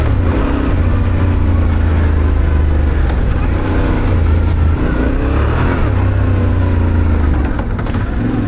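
A 2025 Yamaha Tenere 700 Rally adventure motorcycle engine pulling steadily under acceleration, a loud close continuous drone with shifting pitch that rises and settles, heard alone without talk.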